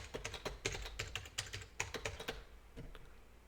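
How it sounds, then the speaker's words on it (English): A password is typed on a computer keyboard, a quick close run of light key clicks in an uneven rhythm that slows and fades toward the end. "So it's asking me for the SDDC admin password. Let's type that in."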